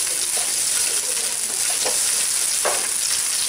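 Chopped onion and garlic sizzle in a frying pan for a Venetian pasta e fagioli, a steady close crackling hiss broken by a few louder spatters and light stirring.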